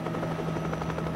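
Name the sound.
news helicopter flying over crash wreckage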